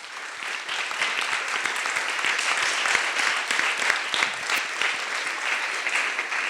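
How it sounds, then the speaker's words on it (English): An audience at the 2019 Accessibility Club Summit breaks into loud, sustained applause, dense overlapping clapping from a full room that stays strong and even throughout. "this is an applause"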